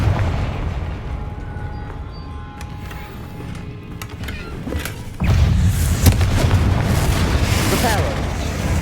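A Confringo blasting spell in Hogwarts Legacy, played on Xbox Series X, sets off a loud booming explosion about halfway through, then continues as dense rumbling blast noise over low game ambience.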